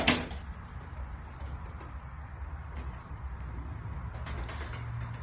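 Pigeons in a coop give soft, low cooing calls, with faint rustling and small bumps scattered through the stretch.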